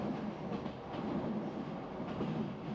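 A Moscow metro train riding on a bridge over the Moskva River, a steady rolling rumble with faint rail clatter heard from inside the car, even and moderately quiet, with no speech.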